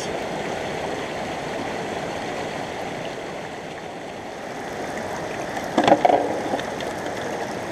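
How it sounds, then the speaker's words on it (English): Water swirls steadily around black sand in a gold pan during a sluice clean-up, a continuous close sloshing that swells into a brief louder splash near the end. "There'll probably be a lot of black sand in that let's just pan it out"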